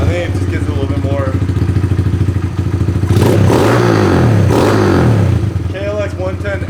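A Kawasaki KLX 110L dirt bike with a clutch and aftermarket pipe is kickstarted and settles into a buzzy idle that rattles close by, then revs sharply twice, under intermittent talking.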